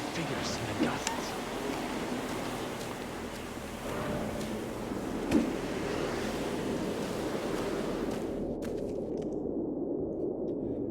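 Storm wind gusting in the video game Mark of the Ninja, a steady roaring rush of noise with a voice talking over it, cutting to quieter low rumble near the end.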